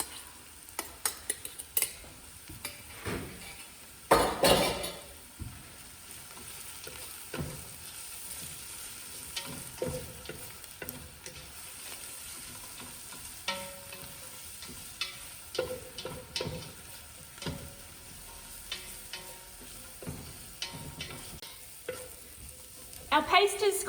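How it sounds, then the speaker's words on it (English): Spice paste of ginger, garlic and chilies sizzles and fries in a pot for a West African peanut stew, with steady frying hiss and repeated scraping stirs of a utensil against the pot throughout. "we are going to add the spice mix with the ginger, garlic and chilies and cook that around for another 5 minutes"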